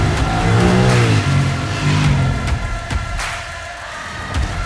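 A 2021 Honda Rebel CMX1100 cruiser motorcycle engine revs up loud and close, pitch rising and falling through quick high-rev bursts before settling into a steadier rumble, with no talk.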